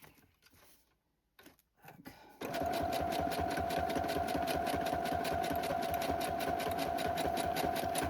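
Sewing machine stitching fabric journal covers made from scraps, running steadily and loudly with a fast even rhythm after a quiet stretch of faint handling noises at the start.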